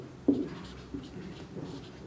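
A pen writes the textbook's name on paper, a faint, close scratching stroke with a small tap at the start and a few softer marks after it.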